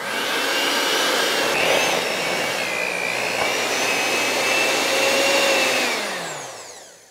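An electric mixer running on high, beating eggs, sugar and vanilla for biscotti dough, a loud continuous motor whine with a steady pitch, winding down at the end, with no talking.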